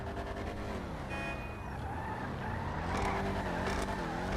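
A Vapid Dominator GTX muscle car in GTA 5 drives with a steady, throaty engine drone, its pitch rising and falling as it revs and shifts, heard continuously at moderate volume.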